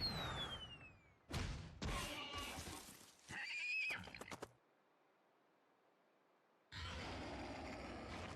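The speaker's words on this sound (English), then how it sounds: "He scared away the horse" A horse in the Tales of Xillia video game lets out a loud whinny in short bursts amid other game sound effects, with a silent gap before the noise resumes.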